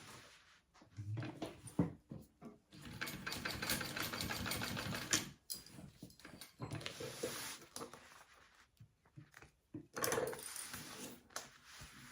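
A sewing machine bastes fabric pieces onto the back panel of a mini backpack, sounding as close, quiet bursts of rapid stitching broken by short pauses and soft handling noises.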